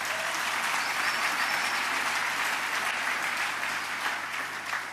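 A church congregation applauding at a French-speaking worship service: steady, dense clapping from many people fills the room, moderately loud and continuous, with no talk over it.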